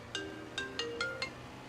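A phone ringtone sounds over a quiet background in five short, evenly spaced bright chimes.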